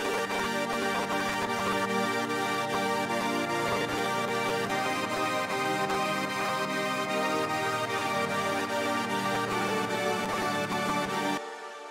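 Layered synth mid parts from a hardstyle track play as a dense, sustained chordal wash, steady and loud for about eleven seconds before cutting off.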